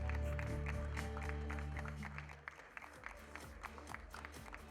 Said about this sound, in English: Welcome JWT on stage with a huge round of applause.